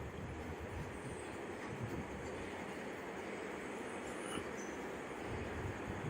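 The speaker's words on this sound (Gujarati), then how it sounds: "આ ટ્રેન ત્રિશૂર રેલવે સ્ટેશન વળાંક ઉપર છે." Bangalore–Ernakulam passenger train rolling around a curve at Thrissur railway station, a steady, continuous rumble of wheels and carriages with faint squeal, heard from the platform and holding at an even level throughout.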